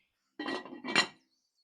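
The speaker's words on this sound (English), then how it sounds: "Let's get that lid on." A lid goes onto a cast-iron potjie pot with two quick metallic clanks, a clattering scrape followed by a brighter ringing knock, close and isolated in silence.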